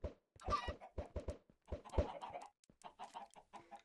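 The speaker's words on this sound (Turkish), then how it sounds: "Aşağıda tavukları var." Chickens in the Minecraft video game cluck in quick, uneven bursts, a string of short, fairly faint clucks with brief pauses between them.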